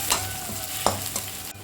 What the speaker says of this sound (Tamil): வெங்காயம், 4 பச்சை மிளகா, கருவேப்பிலை இது எல்லாத்தையும் போட்டு நல்லா வந்து இதை வதக்கிடலாம்